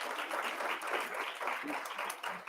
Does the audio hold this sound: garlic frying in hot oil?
no